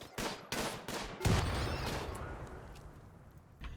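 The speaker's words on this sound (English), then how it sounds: "And now the turrets are just going to be opening fire." Turrets open fire in a video game with several sharp, close gunshot cracks in quick succession, followed by a heavier blast that rumbles and fades over a couple of seconds.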